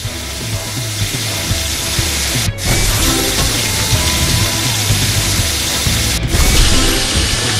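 Mechanical drill in the Paw Patrol: The Movie Adventure City Calls video game on Nintendo Switch, a loud continuous grinding, ratcheting whir with two brief cutouts.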